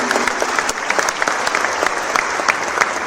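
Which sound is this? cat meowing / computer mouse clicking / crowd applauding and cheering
crowd applauding and cheering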